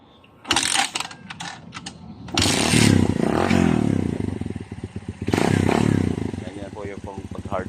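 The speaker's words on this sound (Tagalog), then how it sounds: "Ganyan po yung pag-hard start ng motor" Motorcycle engine being hard-started during maintenance, with three rough bursts of cranking and sputtering engine noise separated by short pauses. A person talks throughout.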